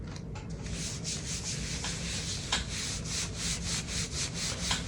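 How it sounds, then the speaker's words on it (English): A hand rubs back and forth over paper to transfer an ink print, giving a steady, close, rhythmic scratchy rubbing with repeated strokes and no talk. "Rub my hand nice back and forth, make sure the ink gets on there."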